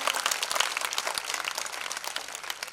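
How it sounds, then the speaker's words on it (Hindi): A crowd claps enthusiastically at a Hindi poetry recital, dense even applause filling the moment without talk, moderately loud. "एक बार जोरदार तालियां।"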